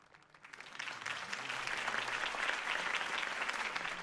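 Loud, dense applause from a crowd, swelling quickly and holding steady as many hands clap together.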